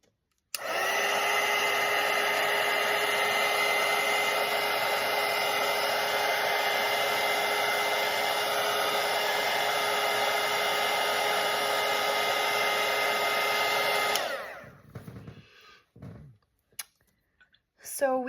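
A hair dryer blows steadily and loudly on a watercolour painting of a parrot for about fourteen seconds, then cuts off, leaving faint clicks and handling noises.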